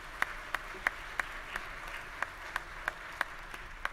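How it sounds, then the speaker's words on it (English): At a spring commencement ceremony, slow, evenly spaced claps sound faintly, a handful of single claps at a steady rhythm over a quiet room hush. "Get them a round of applause, please."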